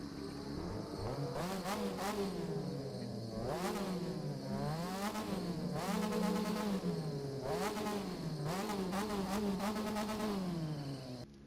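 A Mazda RX-3 rotary engine in The Crew 2 revs repeatedly in rising and falling sweeps, buzzy and raspy, with the pitch climbing and dropping in a steady rhythm.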